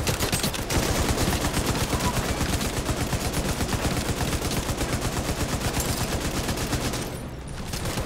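Rapid automatic gunfire from a video game firefight in a space museum, dense repeated bursts running almost continuously and loud, with a brief lull near the end.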